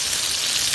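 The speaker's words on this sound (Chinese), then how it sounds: "来一个葱姜蒜炸锅。" Scallion, ginger and garlic hit hot oil in a wok, producing a brief, steady, bright sizzle close by with no talking.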